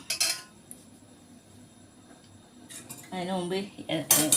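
Metal utensils clink and scrape as tharikanji is ladled from a pot into glasses, with a bright clatter at the start and another burst near the end, and a voice talking briefly in between.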